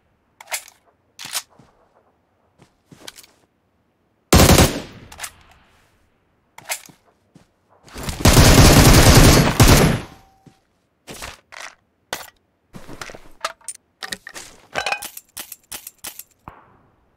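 Gunfire in the mobile battle royale PUBG Mobile, with sharp isolated shots scattered through the stretch and a loud sustained burst in the middle, coming from the player's right side.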